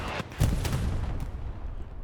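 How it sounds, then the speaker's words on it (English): Artillery rounds and tank fire in the Hell Let Loose video game during a competitive match in Utah, heavy booming blasts and rumbling impacts layered into a loud, dense barrage. "We have smoke, we have arty rounds, we got tanks firing inside the point."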